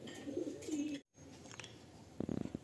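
Pigeons in a loft give a low, murmuring coo, with a brief dropout midway and a short burst of quick flutters or scuffles near the end.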